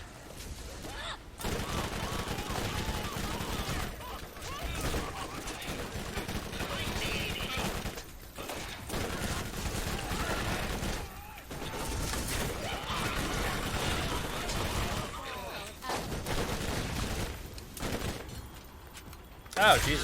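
Rapid SMG gunfire in the shooter game Borderlands Remastered, dense sustained bursts with brief gaps, loud and continuous across the span amid game effects.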